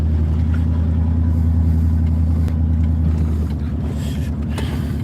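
A truck engine runs steadily and loudly throughout, its low rumble rising slightly in places as if being revved, close by outdoors with no talk.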